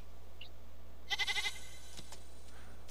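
A goat creature in Ark Aberration gives a short, wavering bleat, fairly quiet over a low steady background hum, followed by a couple of soft clicks.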